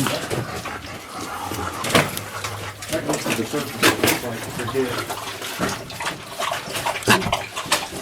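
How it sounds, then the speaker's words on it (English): Thirsty dogs lap water inside a cool mine adit, producing wet, irregular splashing and lapping sounds close by, with someone talking over them throughout. "Thirsty dogs."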